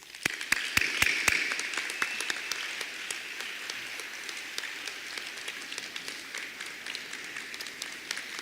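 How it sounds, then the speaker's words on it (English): An audience applauds graduating seniors at a high school senior celebration, with sustained clapping from a crowd and a few sharp nearby claps at the start, steady and moderately loud. "Friends, please join me in giving them a great big round of applause."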